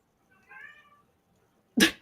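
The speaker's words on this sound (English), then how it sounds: "Kitten agrees." A kitten gives one short, clear meow, close by in a quiet room, followed a moment later by a sudden loud burst of noise.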